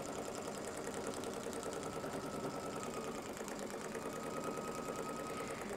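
A sewing machine running steadily and rapidly while back stitching a pineapple quilt block, a continuous close mechanical whir with a fast even needle rhythm and no pauses.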